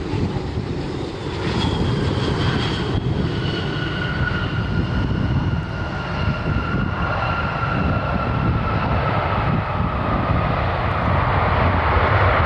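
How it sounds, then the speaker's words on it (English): An Aer Lingus Airbus A321neo airliner on approach gives a loud, steady jet engine roar with a rising whine, sustained and close throughout. "Aer Lingus 98 Kilo inbound from Dublin. A321neo."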